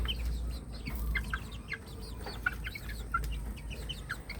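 Chickens being called give a scatter of clucks and short calls, several birds close by, over a low steady rumble, with no talking.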